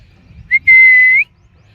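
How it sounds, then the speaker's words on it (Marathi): A person whistles to call animals, likely dogs: a short rising chirp followed by a single sustained, slightly wavering high whistle, clear and close over quiet low background noise. "शिट्टी वाजवल्यात"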